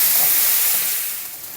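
Meat and diced potato fry in a pan for Korean jajangmyeon, giving a steady, close hiss and sizzle that eases slightly toward the end, with no talk.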